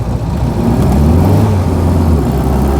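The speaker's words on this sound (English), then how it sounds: "she does light up an inside wheel quite easily in these wet conditions" A 1999 Reliant Robin three-wheeler's small engine revs hard as its inside wheel spins on a wet road, giving a loud, steady, close drone that rises slightly.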